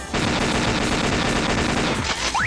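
Rapid, sustained machine gun fire from the arcade shooter Metal Slug 6, dense and loud throughout, with a dip and some zipping effects near the end.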